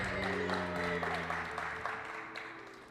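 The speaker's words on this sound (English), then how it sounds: "we'd like to give a big round of applause" Audience applause greets a musician at a live comedy and music event, moderately loud clapping with cheers that gradually tapers off, mixed with a lingering tonal hum and some voices in the background.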